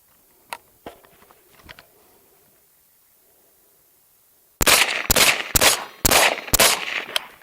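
Radical Defense 14.5 patrol rifle with a pin-and-weld dual port brake, fired suppressed with a Resilient Suppressors 5.56 can: five sharp, loud cracks in quick succession after a few quiet clicks and handling sounds.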